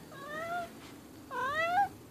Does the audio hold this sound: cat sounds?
yes